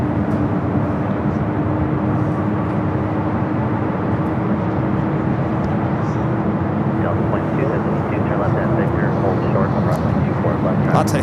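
An Air China Boeing 777 taxiing toward runway 24 left at LAX, a loud, steady broadband jet roar with a sustained engine hum, heard unbroken throughout.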